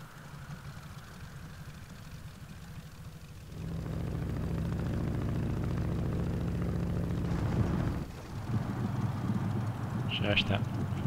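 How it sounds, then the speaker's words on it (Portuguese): The simulated engine of a Polikarpov Po-2 biplane in the FSX/P3D flight simulator idles with a low, steady, rumbling drone that grows louder and rougher partway through, while someone talks over it. "O motor já está em idle."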